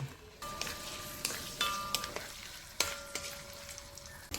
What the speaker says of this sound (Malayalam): തേങ്ങാക്കൊത്തൊന്ന് മൂത്ത് വരുന്നുണ്ട്